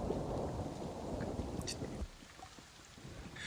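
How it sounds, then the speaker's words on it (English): Thunder rumbling in during a rainstorm, a broad low roar with steady rain hiss that drops to quieter rainfall partway through. "You also hear that sound of thunder that's coming in"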